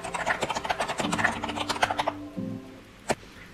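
Quick, close typing on an Aula A80 mechanical keyboard with gold powder switches, soft rapid key clicks that fade out, ending with one last isolated keystroke, while a voice speaks over it.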